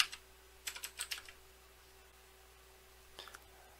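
Computer keyboard keys pressed during a word-processor formatting tutorial: a quick cluster of faint, crisp clicks, a pause, then a few more taps near the end, with no talking.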